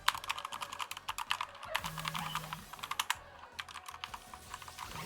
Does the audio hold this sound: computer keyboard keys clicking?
yes